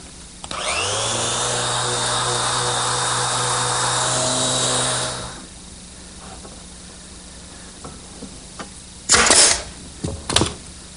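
Power sander working the interior areas of a wooden secretary desk: a loud, steady motor whine for about five seconds that spins down, followed by quiet handling noises and a few sharp scraping bursts near the end.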